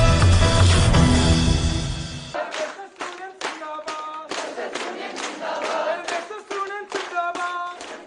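AIIMS nursing staff on protest, seated on the ground, clap and chant slogans; a loud burst of group noise gives way to rhythmic rounds of unison clapping mixed with shouted chants.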